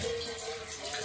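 Steady stream of hot water pouring from a tap, an even rushing splash heard close and fairly loud, constant throughout with no voices.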